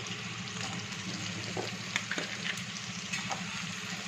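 Chopped onions frying in hot oil in a pan, a close, steady sizzle with occasional stirring scrapes, continuous and moderately loud, with no one talking.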